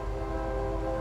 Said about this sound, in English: Train. It's so weird, they're so far away, but still we can hear. Super loud.